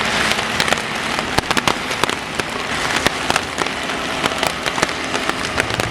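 Steady rain pours down, a dense hiss of drops with scattered sharper patters on a hard surface, close and continuous with no voices.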